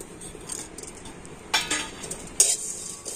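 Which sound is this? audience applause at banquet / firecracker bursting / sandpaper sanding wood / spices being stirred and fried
spices being stirred and fried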